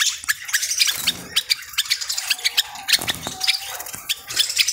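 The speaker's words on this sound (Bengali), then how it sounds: "অনেক সুন্দর দেখতে জাবা পাখি" Java sparrows at a bird shop, several of them chirping in quick, overlapping bursts with scattered squeaks, close and fairly lively throughout.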